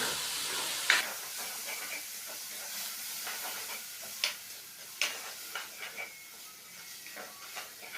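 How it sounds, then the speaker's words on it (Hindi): A spoon stirs yogurt into chopped tomatoes and finely cut green chilies in a pan for bhindi chicken, giving soft scattered scrapes and light clicks over a faint sizzle, with no one speaking. "अच्छे से हमने इसको मिक्स कर लिया"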